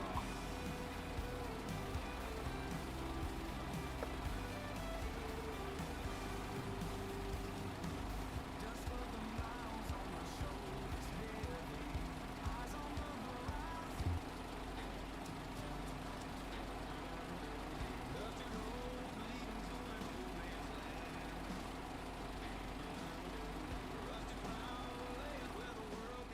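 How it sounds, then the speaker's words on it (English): A loud diesel truck engine drones in a steady, unbroken roar for the whole stretch, constant and close with no pauses. "That damn truck's just loud."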